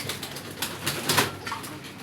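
Deshi pigeons cooing, soft low coos repeating at a moderate distance over a faint airy background, with no talk.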